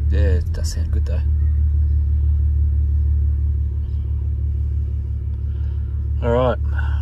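A BA Falcon ute's engine idles while warming up, a steady, loud low rumble from close by that continues throughout, with brief bits of talk at the start and near the end.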